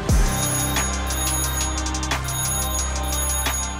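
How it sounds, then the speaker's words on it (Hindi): A telephone rings on and on, a steady electronic ringtone repeating insistently and loudly throughout, with no voices over it. "MD PTV Yusuf bag Mirza के फ़ोन की घंटी मुस्तकिल बज रही थी।"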